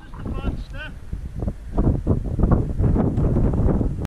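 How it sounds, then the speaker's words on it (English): Wind gusts buffet a microphone outdoors on the Sharp Edge ridge, with rough, rumbling blasts that swell and build in strength. A voice is heard briefly at the start. "Fuck off, wind!"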